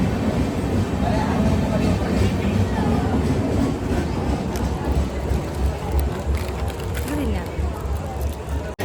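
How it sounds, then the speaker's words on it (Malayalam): Rumbling rattle of a moving train with rhythmic clatter, close by, while people talk in the background. "ഞങ്ങൾക്ക് അങ്ങനെ ട്രെയിൻ കിട്ടി"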